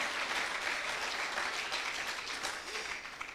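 Congregation at a church service applauds with a sustained, fairly faint wash of clapping from many hands, steady throughout and slightly fading at the end, with a few voices mixed in.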